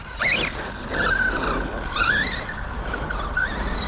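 A 1/8-scale RC monster truck driving and jumping off-road, its electric motor whining up and down in pitch through several surges, with tire skids and rough ground noise close to the camera.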